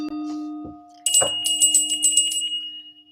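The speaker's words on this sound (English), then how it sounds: "I need to make a lot of bell sounds" A bell struck for a cleansing ritual rings out with a bright metallic attack, followed by several lighter shimmering strikes that sustain and fade, after an earlier low steady tone.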